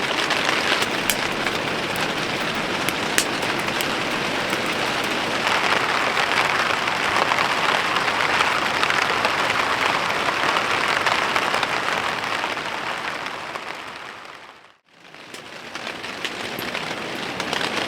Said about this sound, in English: Tent is holding pretty well with the heavy rain and wind.